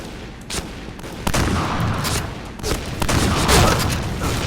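Gunfire in the online shooter game Point Blank, bursts of rapid shots with sharp cracks and booms breaking out repeatedly over a few seconds, loud and close.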